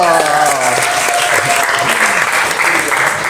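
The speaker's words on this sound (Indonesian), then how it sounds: "kasih aplaus buat kita semua dulu" Applause from a class of students in a school classroom, a steady dense clapping that fills the whole stretch at close range, with faint voices mixed in beneath it.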